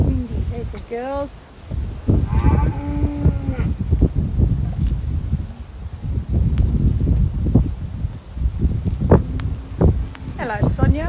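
Dairy cows low in a wet, cold laneway beside a paddock after milking in the rain, several drawn-out moos near and far mixed with wind buffeting and rustling, with a person talking between them.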